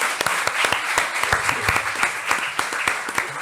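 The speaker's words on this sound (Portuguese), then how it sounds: "Gente, uma salva de palmas pro Lucas." An audience claps steadily throughout, dense and sustained applause with sharp individual claps standing out, filling the whole moment without speech.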